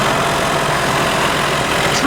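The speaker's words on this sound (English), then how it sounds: "Behold the 1984 Ford 302. The American V8 that makes" A 1984 Ford 302 V8 in a Lincoln Town Car idles with a steady, loud, broadband rumble that holds an even level throughout, close by and with no voices over it.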